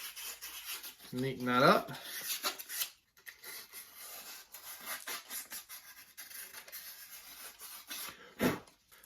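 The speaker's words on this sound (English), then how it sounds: "a little bit of sandpaper" Sandpaper rubs over a small wooden circle-cutting palm router jig in soft, scratchy strokes, faint and close, with a brief spoken remark among them.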